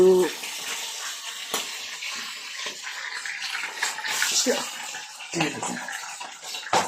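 Hot oil sizzles steadily with sudden sharp pops and crackles as a rooster's egg bursts and spatters while frying, while voices talk over the noise.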